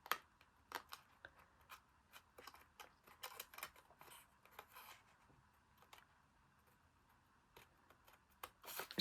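Scissors snip through 6x6 craft paper at a slight angle, cutting two pieces to a corner: a string of quiet, close, crisp clicks and cuts in irregular bursts.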